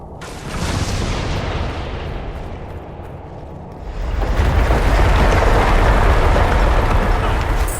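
An explosion in the video game Dragon Age: Inquisition: a loud, deep, roaring rumble that eases slightly, then surges louder and fuller for the final seconds, with no talking.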